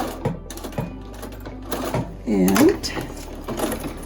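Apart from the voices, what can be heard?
sewing machine stitching a face mask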